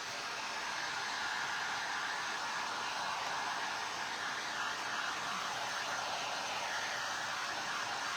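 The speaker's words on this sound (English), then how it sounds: "Now, if I blow this, if I try to dry it so you can see, it's going to blow cinnamon everywhere" A hair dryer blows steadily at close range to dry cinnamon-coated primitive candy corn Halloween decor, a continuous even whoosh with no pauses or talk.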